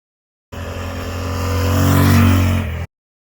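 A 2024 Yamaha XSR 900, a middleweight naked bike with an 889cc inline three-cylinder, rumbles steadily and swells as it revs up during a test ride. The tone is loud and close, rising to a peak before cutting off.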